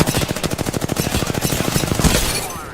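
Video game gunfire: a rapid burst of automatic shots fires in an even, fast rhythm, loud and close, and thins out into a fading echo at the end.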